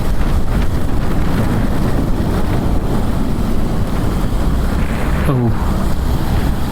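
Wind roaring past a motorcyclist riding through the city from Cubao to Balintawak, a constant loud rush of buffeting noise with a brief exclamation from the rider.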